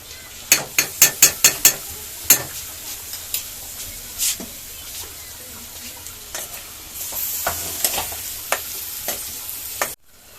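Garlic frying in a pan for beef karahi, a soft sizzle under a run of sharp metallic clinks and scrapes from stirring, spaced irregularly and close by.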